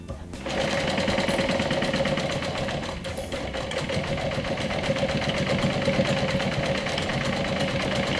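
A sewing machine stitches down a backpack handle, starting after a brief pause and then running steadily with a fast, even mechanical chatter of the needle, close and fairly loud throughout.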